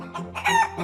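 A voice imitates a black hen clucking in a storybook reading, giving a few short bursts of bright, nasal cackling close up, rising into a louder crow-like middle before falling back.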